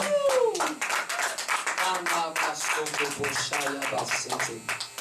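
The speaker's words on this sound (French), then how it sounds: "Acclame très fort, même étant assis." A church congregation at a Sunday service claps and cheers, with rapid handclaps and scattered shouts mixed through a steady, moderately loud wash of voices.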